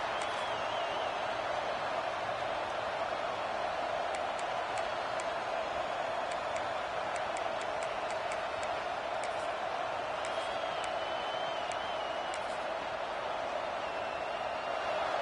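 A college football stadium crowd at Georgia vs NC State keeps up a steady, dense roar, a constant wash of noise with no breaks, heard from within the stands.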